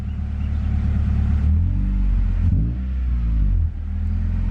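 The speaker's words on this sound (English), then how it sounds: "Even when I rev the engine" A 5th-generation Honda Prelude BB6 with a failing alternator revs loudly close up, its engine rumbling and rising in short bursts before dropping back to idle.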